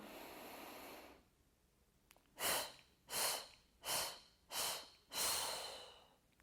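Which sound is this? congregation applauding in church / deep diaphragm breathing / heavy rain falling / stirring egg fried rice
deep diaphragm breathing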